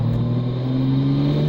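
A Porsche 911 Turbo S engine rumbles steadily with a raspy, throaty drone, revving lightly and staying loud and close throughout.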